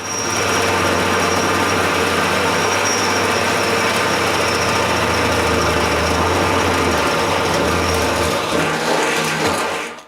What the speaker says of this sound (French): en utilisant une perceuse avec un foret à métal et percez des trous de 10 mm